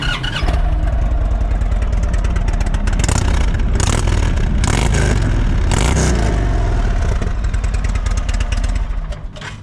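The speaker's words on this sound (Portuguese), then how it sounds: "o barulho da moto é espetacular, adoro o barulho da moto, muito característico destes motores em V, bicilíndricos em V" A 2024 Indian Roadmaster V-twin motorcycle engine runs loud and close, a deep pulsing rumble with several rising revs throughout, fading slightly at the very end.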